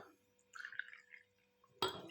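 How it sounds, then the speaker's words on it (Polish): Liquor is poured into a glass close by, a faint brief trickle of liquid followed by a sharper clink or splash near the end, in an otherwise quiet room. "tylko muszę trochę jeszcze więcej sobie polać"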